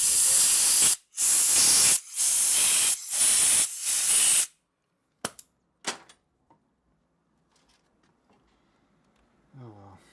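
Compressed air blowing out a hole on a 1941 74ci Knucklehead engine, heard as four loud, close hissing blasts with brief gaps, followed by quieter clicks and handling noises.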